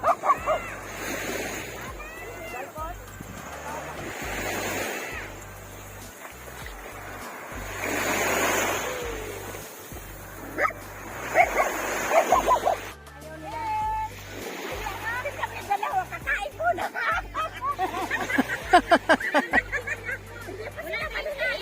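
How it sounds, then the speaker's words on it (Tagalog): A small but fierce pet dog barking in repeated short bursts during a seaside outing in Batangas, with waves in the background and people talking throughout. "Grabe itong aso ko na to, kapandak-pandak ang tapang-tapang."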